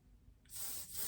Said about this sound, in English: another Oribe product, which is called the Impermeable Anti-humidity spray